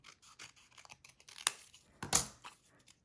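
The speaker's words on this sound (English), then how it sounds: "you can use a circle and you can cut it in half" Scissors snip through a paper circle to cut it in half for a handmade Christmas tag, two sharp close cuts amid quiet rustling of paper.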